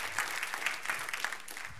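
A church congregation applauds in steady hand clapping, moderately loud and continuous without voices.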